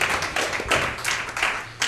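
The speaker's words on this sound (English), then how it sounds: "All right, nice round of applause there." Applause from an audience at a cast and crew Q&A for a film: a steady, dense wash of clapping fills the short stretch, fairly close and loud.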